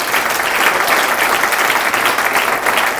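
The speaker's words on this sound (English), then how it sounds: "Another round of applause." A conference audience at a digital festival applauds steadily for three seconds, a dense, even wash of many hands clapping with no talk over it.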